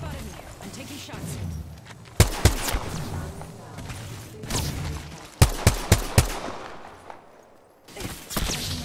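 Gunshots in Apex Legends: sharp single cracks ring out in small clusters, a pair early then a rapid string of four or five, over game ambience and a talking voice.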